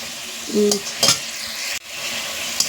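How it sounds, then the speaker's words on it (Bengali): Fish slide into boiling spice paste in a pan, giving a close, bubbling sizzle with a couple of sharp utensil clinks and a short scrape. "দেখো মশলাটা ফুটে গেছে এবার আমি মাছগুলো দিয়ে দিচ্ছি"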